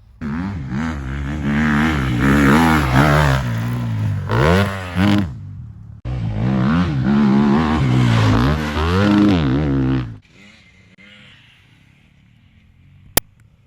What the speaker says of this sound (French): Et pourquoi il y en a qui accélèrent, ils font du bruit en l'air?